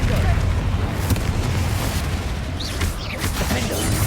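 Confringo fire spell in Hogwarts Legacy blasting during a troll fight, heavy booming rumble with bursts and crackles, loud and sustained amid battle noise.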